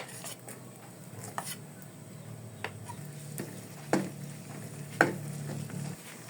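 Garlic sautéing in a pan for chicken curry, a soft steady sizzle with several light, spaced taps and scrapes of a spatula, close and quiet.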